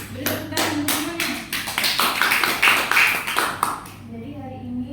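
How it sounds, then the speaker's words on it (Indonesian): Clapping from a classroom of students during a teaching session, a burst of rhythmic hand claps that builds then fades, with young voices mixed in and some chatter underneath. "Beri tepuk tangan untuk semuanya."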